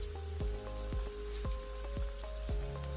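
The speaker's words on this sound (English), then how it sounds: "We're gonna allow these to fry as well" A dense, steady crackle of hot oil sizzling as coconut shrimp fry, with occasional sharper pops and spits, fairly close and continuous throughout.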